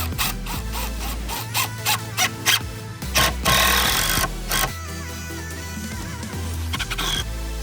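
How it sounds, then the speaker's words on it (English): Screws being driven into plywood with a power driver, a series of short whirring bursts with brief pauses between them, close and fairly loud. "Now we got some 1 5/8 screws. I'm gonna screw this plywood down."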